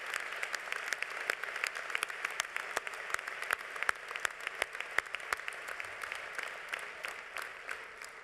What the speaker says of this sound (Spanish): Un aplauso de este Congreso Confederal de Comisiones Obreras.